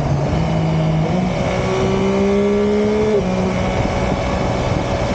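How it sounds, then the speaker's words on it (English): A Yamaha Tracer 9 GT motorcycle engine drones steadily with a rising and falling exhaust note, continuous and fairly loud throughout, with no talking. "making a great noise from the exhaust"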